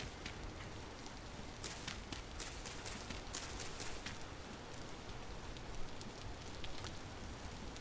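Steady rain falls in the Vintage Story survival game, a dense, even hiss of drops with scattered sharper patters, constant and moderately close throughout with no talking.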